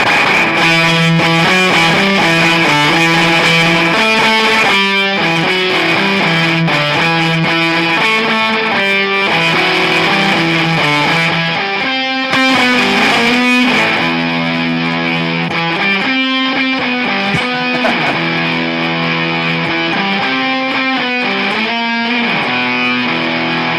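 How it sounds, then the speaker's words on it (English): Electric guitar, a Mayones, played through an Electro-Harmonix or Wampler distortion overdrive pedal, with loud, saturated chords and riffs ringing continuously with a brief pause midway, alone without talk. "is this functional with a distortion overdrive, or is it going to get too crazy?"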